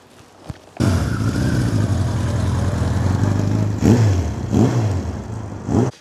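A 1978 Suzuki GS1000 superbike being ridden, its engine droning steadily and fairly loud after a brief quiet start, with a few revving swells toward the end.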